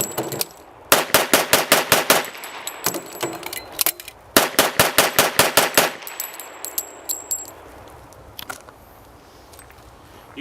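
A 1912-design pistol fired in rapid strings, two fast bursts of sharp, evenly spaced shots with a short pause between, then a few scattered final rounds at an outdoor range.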